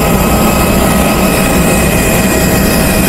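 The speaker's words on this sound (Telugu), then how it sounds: "ఇదైతే మన వచ్చిన వైజాగ్ టు బ్యాంకాక్ ఫ్లైట్" A steady, loud engine roar from an airliner on the Vizag to Bangkok flight, a continuous broadband rumble heard up close without any talking.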